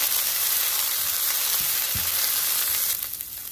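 Garlic, curry leaves and green chillies fry in hot oil for a jackfruit side dish, giving a steady, close sizzle with a couple of soft stirring knocks; the hiss eases slightly near the end.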